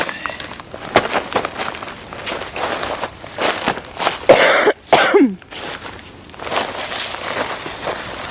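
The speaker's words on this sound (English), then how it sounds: "I'm so sorry for all the coughing." Coughing from someone who is sick, heard outdoors by the water after a homemade boat float test, as several short irregular bursts of fairly close coughs and throat noises over light background movement.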